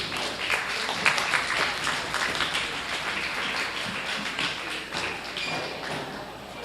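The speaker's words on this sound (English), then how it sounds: "send these all out with a nice round of applause" A crowd at a county fair swine show claps, producing a steady patter of applause from many hands that carries on for several seconds without talk.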